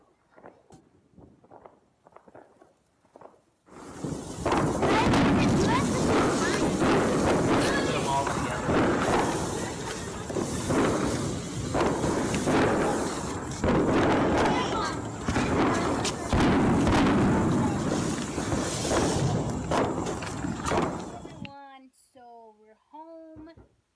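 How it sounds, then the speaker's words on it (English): Fourth of July fireworks go off in a dense, loud barrage of booms, thuds and crackles that runs for about seventeen seconds, with quieter pops before it and a voice right after it ends. "Fireworks are so loud,"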